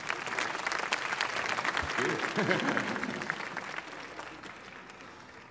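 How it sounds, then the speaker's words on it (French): Applause fills a welcome-evening audience hall in steady broadband clapping across the whole stretch, with voices speaking over it and a brief low thump near the middle. "Applaudissements."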